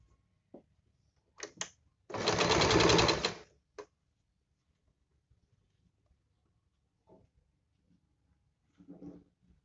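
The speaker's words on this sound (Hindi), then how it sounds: "सिलाई हमें यहां तक लगानी है पट्टी की जहां तक हमारा 3 इंच का निशान लगाया हुआ है।" A sewing machine stitches a strip onto palazzo pants in one loud, rapid burst of about two seconds, set among scattered soft clicks and handling taps in a quiet room.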